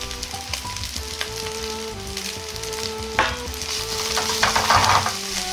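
Minced ginger added to meat and minced onion in hot oil for soy sauce fried rice, sizzling loudly and close with scraping stirs and a sharp burst of frying near the end.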